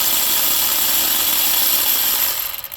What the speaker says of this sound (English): I'm going to unscrew it with my electric ratchet